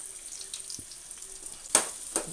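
Onions frying in a pan for chicken gongura curry, a faint sizzle with a low hum, then two short louder bursts of spattering hiss near the end.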